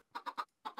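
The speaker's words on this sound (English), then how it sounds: "Feed all the baby chickens." Baby chickens in Minecraft cluck in a quick run of five short, bright calls, three together then a pause and two more, close and clear with no talking.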